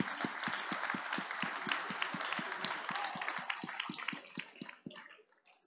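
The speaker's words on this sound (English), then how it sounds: "So an applause to the team behind of all this stage." An audience at an ITS award ceremony applauds the stage team, with a dense wash of clapping and a steady rhythmic beat that thins and fades out near the end.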